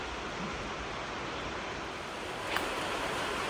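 Heavy rain pours outside a workshop as a steady, even hiss, with one faint brief knock partway through and no talking.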